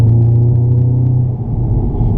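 A VW Golf R MK7 in dynamic mode pulls away with a deep, steady engine rumble, loud and close, its low drone holding evenly with a slight dip midway and no voices.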